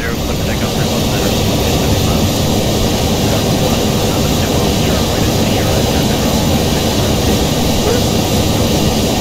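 Airliner jet engines during takeoff in a flight simulator game give a loud, steady, broadband roar that holds constant throughout. A voice speaks over the noise like radio traffic.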